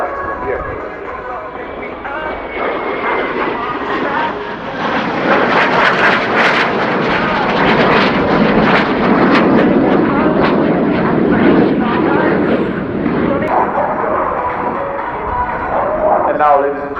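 M-346 jet trainer flying a display at the RIAT airshow, a loud sustained roar that swells and recedes as it maneuvers overhead, with a public-address commentator talking throughout.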